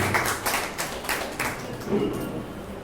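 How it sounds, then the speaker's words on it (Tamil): An audience at a Tamil debate event gives light, scattered clapping, a few bursts of hand claps at moderate distance rather than a full ovation. "பேச்சாளர் அருமை தம்பி விக்னேஷ்குமார் அவர்களை உங்கள் பலத்த கைத்தட்டலோடு அழைத்து வந்தது."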